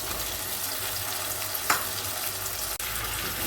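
Potato and broad beans sauté in a pan, producing a loud, dense, continuous sizzle throughout, broken only by a brief stirring scrape and a sharp momentary dropout near the end.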